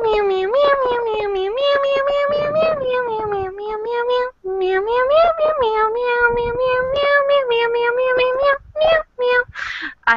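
A person sings a long run of imitated cat meows in one breath, a continuous melodic stream of voiced meow sounds, loud and close, ending in a few short gasps and bursts.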